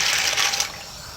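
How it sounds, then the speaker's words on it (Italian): Rigatoni tipped into a pot of boiling salted water on the stove make a brief watery splash and rush, loud at first and then settling into a softer bubbling hiss, with no talking. "Avete messo la caccavella in coppo fuoco, acqua, sale, bolle, e io ci butto i rigatoni."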